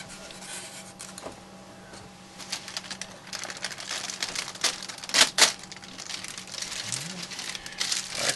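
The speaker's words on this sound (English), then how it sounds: "Wax paper's removed." Wax paper peeled off quad vinyl graphics: a continuous crinkling, rustling tear that builds to louder crackles near the middle, close up, with faint background noise.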